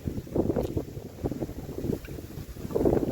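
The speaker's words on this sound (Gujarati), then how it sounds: "પવન છે બહુ" Gusty wind buffets the microphone outdoors on a farm in the evening, a rough low rumble that swells and fades in uneven waves, loudest near the end, with no voices.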